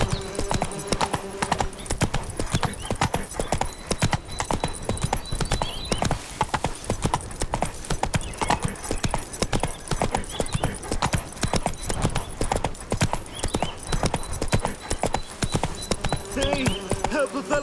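A horse gallops in The Witcher 3: Wild Hunt, its hooves beating a fast, loud, steady rhythm close by for the whole stretch, with a brief neigh.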